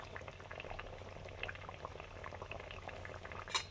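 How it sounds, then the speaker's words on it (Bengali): Fish curry broth with potato and eggplant bubbles at a simmer in a pot, soft continuous burbling and popping, close but quiet, with no voices. "ঝোল ফুটে গেছে"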